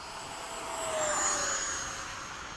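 RC Hawk model airplane at full throttle over a flying field, a thin high-pitched engine whine that swells louder as it passes, then fades slightly, with no talking.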